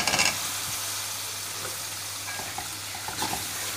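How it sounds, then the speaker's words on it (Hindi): Potatoes dropped into a pan of frying masala, giving a sharp hiss at first and then settling into a steady, even sizzle with faint stirring clicks. "अब आलू डाल देते हैं इसके अंदर।"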